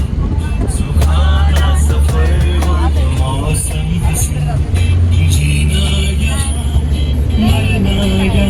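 A car's engine rumbles steadily and close by, with occasional revving, in a busy outdoor spot. Voices chatter throughout over the constant motor noise.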